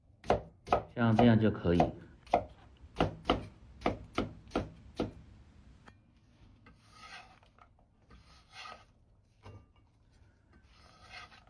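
A knife slices bottle gourd into fairly thick pieces on a cutting board. About a dozen sharp, close chops come in a quick, regular rhythm, with a brief scraping rub among them, then softer handling noises and a short spoken remark follow.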